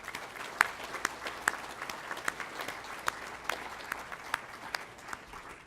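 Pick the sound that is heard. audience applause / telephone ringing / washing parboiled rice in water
audience applause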